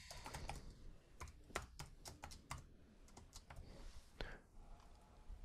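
Quick, irregular key clicks and taps come from a computer keyboard as a file name is typed, a faint, close run of bursts with short pauses and no speech.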